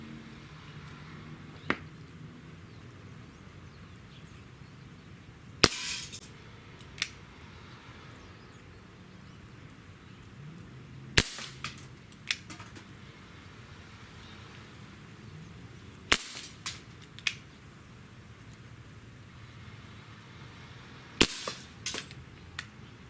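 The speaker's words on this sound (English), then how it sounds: "Let's shoot 6 shots with that, see how well it groups" A Webley MKVI 4.5 mm CO2 air pistol fires BBs, about six sharp, snappy cracks spaced several seconds apart with quiet pauses between, and no talking.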